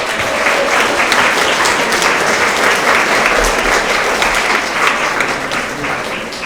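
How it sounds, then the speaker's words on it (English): Loud, sustained applause fills a school award assembly for 6th to 8th graders, dense clapping with scattered cheers and some crowd voices mixed in, holding strong from start to end. "Let's go ahead and give another round of applause for all of our Honesty Award winners."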